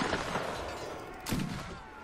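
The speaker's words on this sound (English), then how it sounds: "Keep shooting, boys! Keep shooting!" Musket gunfire from a Mount & Blade: Warband battle set in the 16th century: a ragged volley of sharp reports and thuds, with a second burst of shots near the end, loud and fairly close with no talk.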